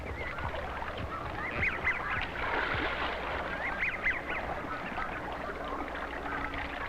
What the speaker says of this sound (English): we made a trial run to be sure the goose would fly naturally down our course